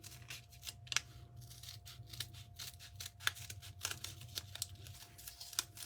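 Scissors cut petal shapes out of paper for an art journal page: quiet, irregular snipping clicks close by, with no talking.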